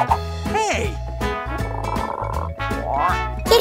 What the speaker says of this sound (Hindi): एक मेंढक है।